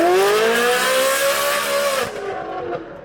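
A Ferrari 458 Spider fitted with a full FI exhaust, including headers, cat deletes and a rear valve muffler, revs loud and close, its high-pitched wail climbing for two seconds and then dropping off as the throttle closes.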